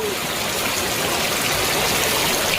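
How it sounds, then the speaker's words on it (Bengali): Heavy monsoon downpour in the Sundarbans, a dense, steady hiss of rain at a constant loud level with no break across the short stretch. "বৃষ্টি হচ্ছে মুসলধারে"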